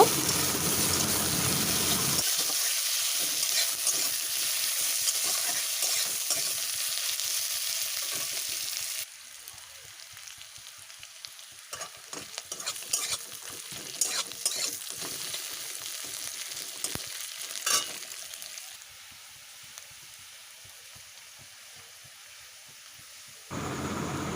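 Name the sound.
chopped onion frying with cumin seeds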